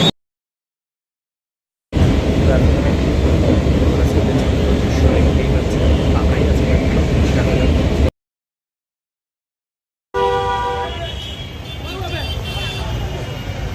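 A Kolkata metro train runs with a loud, steady rumbling roar, broken by abrupt silent gaps. A later stretch is quieter, with the train's rumble continuing under brief tonal beeps.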